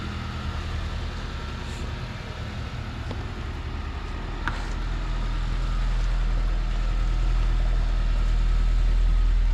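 An Acura TL with an Si exhaust idles nearby with a low, steady rumble, and the engine note swells and deepens partway through as it revs or pulls away.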